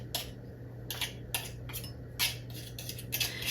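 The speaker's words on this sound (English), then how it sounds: "You want to just cut that butter into your flour" Vegan butter being cut into flour in a bowl, a utensil scraping and tapping in short, irregular bursts, close and fairly quiet over a low steady hum, with no talking.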